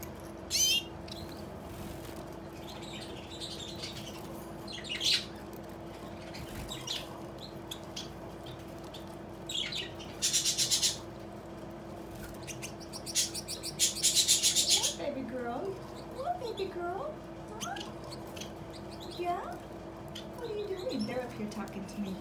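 Gouldian finches in an aviary give short chirps and soft nasal calls in scattered bursts, some near and some further off, over a low steady background hum.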